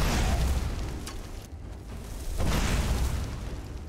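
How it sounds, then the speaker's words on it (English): Fire bolt spell cast in Skyrim against a Draugr Wight, a loud roaring burst of flame that fades briefly and then flares up again in a second rushing blast. "we are going to do a little fire bolting"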